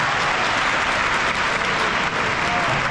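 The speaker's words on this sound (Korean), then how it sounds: "뜨거운 박수를 부탁드립니다." Dense, steady applause from a large audience at a high school graduation ceremony, continuous and loud throughout with no pauses.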